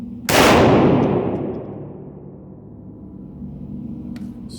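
A BH Bestarms 12 gauge magazine-fed semi-auto shotgun fires a single loud, close blast that rings out and decays slowly over the following seconds.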